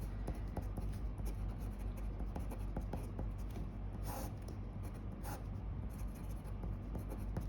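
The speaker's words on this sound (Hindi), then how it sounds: "लो यार मैं पूरा लिख के दिखा देता हूँ।" Pen scratching steadily across paper while a trigonometry solution is written out by hand, a continuous close scribbling with short strokes and brief pauses.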